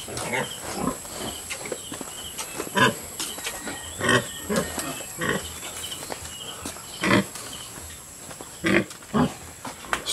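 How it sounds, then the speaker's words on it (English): Pigs and piglets in a farm pen waiting to be moved to fattening pens, giving repeated grunts and squeals in short bursts throughout, fairly close, with no talking. "these are some of the piglets that should be moved into the fattening pens, but we've got 5 of Mitch's pigs"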